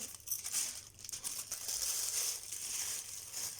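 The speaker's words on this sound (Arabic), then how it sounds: "هطلع الهواء كده من الكيس كله." A plastic bag holding salted fish is squeezed to push the air out, giving close, irregular crinkling and rustling with soft bursts of air.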